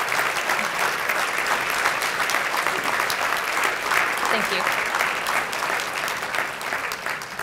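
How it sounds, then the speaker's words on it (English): Evening crowd at a city address applauds standing city staff, a steady, full-bodied wash of many hands clapping throughout, with a brief word of thanks spoken beneath it. "Give them all a round of applause."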